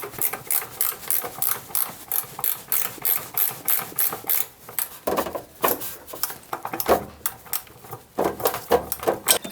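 Wrench loosening bolts on an industrial machine while fitting a servo motor: a series of close metallic ratcheting clicks and clanks in irregular bursts, with no talking.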